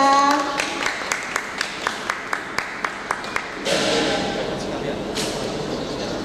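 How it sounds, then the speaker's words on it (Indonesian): Audience applause at a Ramadan festival modelling and fashion show competition at a railway museum in Ambarawa: a string of roughly a dozen sharp, evenly spaced claps, then a denser, noisier burst of clapping from a crowd in an open setting. "Beri tepuk tangannya sekali lagi dong pada Kak Raisa"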